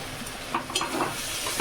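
Washed masoor lentils tip into chicken frying in hot oil, setting off a steady close sizzle with a few soft stirring clacks and splashes scattered through it.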